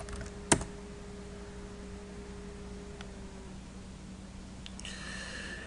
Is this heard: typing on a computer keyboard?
yes